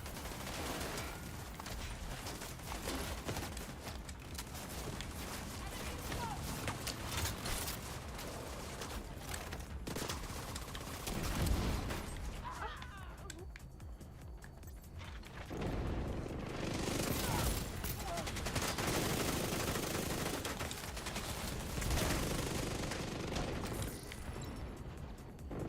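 Gunfire from a sniper firing in The Division 2 video game, a dense, continuous wash of shooting and combat noise across the whole span, with no clear single isolated crack.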